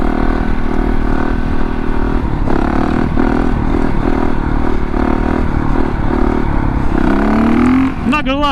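A Honda CRF450RX built as a supermoto runs hard, with a loud, steady, aggressive engine drone and rough clatter throughout, then a pitch rise as it revs near the end.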